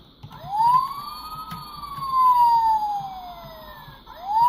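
The electronic siren of a 2001 Transformers Robots in Disguise Optimus Prime toy wails in long rising and falling sweeps, loud and close, starting a fresh cycle near the end.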